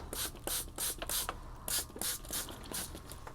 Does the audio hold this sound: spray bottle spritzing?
yes